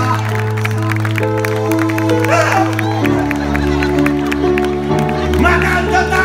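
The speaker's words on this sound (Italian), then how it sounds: "Un applauso qua ci vuole" Applause and cheering from a live audience after an improvised musical performance, mixed with sustained instrumental tones and voices, steady and fairly loud throughout.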